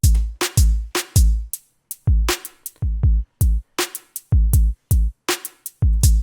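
A drum beat with kicks, snares and hats through a small EQ'd plate reverb, each hit trailed by a short, bright ambience that lingers briefly between strikes.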